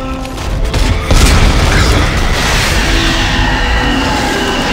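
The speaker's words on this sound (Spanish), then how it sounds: "Te la vuelvo a presentar, es mi escopeta." Shotgun blast in the sci-fi horror game Dead Space 3, a loud, dense, roaring burst that swells after a second and stays thick and sustained to the end, with no voices.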